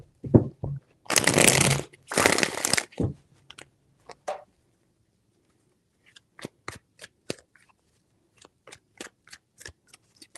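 Tarot cards being shuffled by hand, two quick riffling bursts close to the microphone followed by a scatter of sharp taps and clicks as the deck is squared and cards are laid down, no talking.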